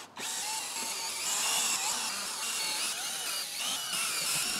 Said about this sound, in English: Now we can drill pilot holes on our piece of plywood.